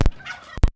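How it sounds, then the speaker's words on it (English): Short, loud bird calls burst out close by outdoors, a harsh call at the start and two more in quick succession near the end, with quiet background between. "you can hear the crows and the birds and all that"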